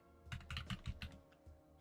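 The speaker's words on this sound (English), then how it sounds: "you're gonna hear my loud keyboard" A loud computer keyboard clatters in a quick burst of about a dozen close keystrokes, then pauses and adds a couple more taps, with no talking.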